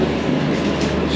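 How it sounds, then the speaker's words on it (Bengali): A train pulling into New Mal Junction station in North Bengal, a steady close rumble of rail cars rolling along the track with no voices over it. "ট্রেন ঢুকছে নিউ মাল জংশনে।"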